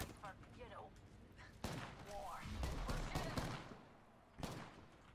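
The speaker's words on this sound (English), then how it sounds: "Oh, I'm getting shot at." Gunfire in a shooter video game, scattered sharp shots and short bursts cracking over a background of game noise, with a player talking now and then.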